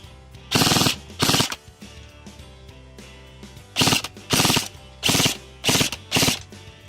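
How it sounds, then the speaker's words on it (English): Airsoft gun fitted with an AceTech tracer unit firing full-auto bursts, loud close rattling volleys, two bursts then a pause followed by four more in quick succession, with a mechanical whir between. "Let's do a full auto burst."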